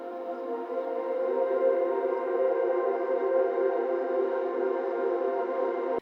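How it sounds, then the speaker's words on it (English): A vocal pad built from a Splice vocal sample, a sustained, breathy, droning chordal tone that swells in and holds steady at an even level for several seconds before cutting off abruptly. No one speaks over it. "So this vocal pad sounds like this."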